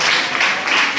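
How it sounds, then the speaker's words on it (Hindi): A classroom of students clapping together for a classmate, a dense, steady burst of applause at close range filling the short moment without any talk. "रिया के लिए ताली बजाओ।"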